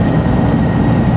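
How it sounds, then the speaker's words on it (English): Steady, loud rumble and rattle of a bullet train cabin on the run from Tokyo to Kyoto as it gathers speed, with a constant low roar of wheels and rails and no talk. "the train started off kind of slow, but it's been continuously picking up speed."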